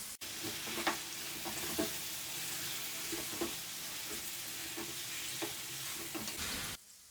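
Chicken frying on high heat for a degh-style korma, a steady close sizzle with periodic scraping thumps from stirring roughly every second, continuous throughout before stopping near the end.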